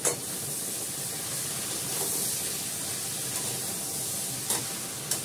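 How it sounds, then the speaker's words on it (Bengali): Bottle gourd curry sizzles steadily in a pan with a constant close hiss, with occasional soft clinks and scrapes of stirring as water goes in. "একটু নাড়াচাড়া করে জল দিয়ে দেবো।"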